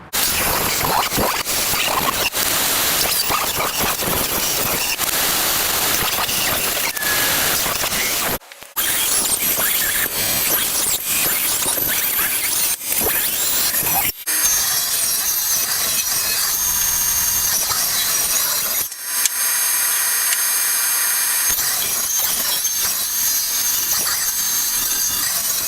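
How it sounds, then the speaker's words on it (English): A saw cuts corrugated sheet metal held in a cradle, grinding steadily and loudly for long stretches, with brief pauses near 8, 14 and 19 seconds before cutting resumes; no voices are heard. "this cradle is going to be used to cut corrugated sheet metal"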